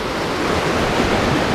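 Gun Creek rushes past a bridge on a mountain trail, a loud, continuous close-up roar of flowing water with no talking.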